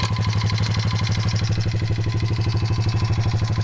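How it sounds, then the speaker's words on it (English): A modded Honda pitbike engine idling with a rattly note, its rapid, even pulsing steady and close throughout, with no voices. "The engine sounds a little more rattly than I'd like."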